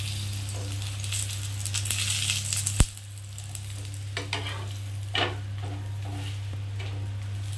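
Paratha shallow-frying in a little oil in a pan over lowered heat, a steady close sizzle with occasional scraping and stirring clinks of a utensil against the pan.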